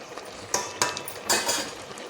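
A spoon stirs a thick cooking tomato mixture in a pot, with three or four sharp scraping strokes and clinks over a soft background bubbling, close and fairly loud, with no talking.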